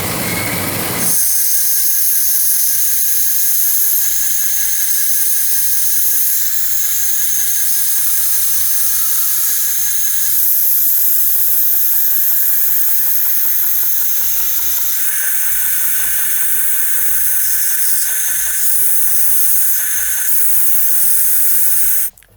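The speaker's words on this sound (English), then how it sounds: "I cleaned up the profile on the 2x72 grinder." Belt grinder with a 2x72 belt profiling a scabbard piece, a steady loud hissing whine of abrasive on material running continuously throughout with slight shifts in pitch as pressure changes, no talk.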